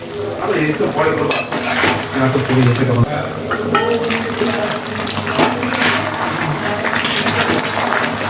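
Packaged yogurt stirred into sizzling biryani masala in a pan, with steady frying hiss and scraping stir strokes throughout, loud and close, with a voice speaking briefly over it.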